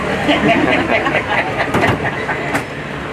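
Steady rumble and rattle of a tourist tram rolling along at Shark Valley in Everglades National Park, Florida, with clacking rhythm and murmured voices of passengers in the background.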